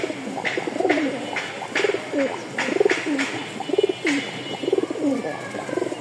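Pigeons, a black-beaked breeding pair of male and female, coo repeatedly in soft rhythmic bursts close by, each call a low throaty roll recurring every second or so.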